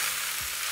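Mixed winter vegetables frying in a pan for a vegetable curry, a brief close burst of steady hissing sizzle.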